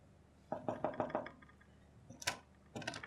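Knocking on a door in an indoor drama scene: two quick bursts of several raps each, fairly close and moderately loud, with a short sharper knock between them.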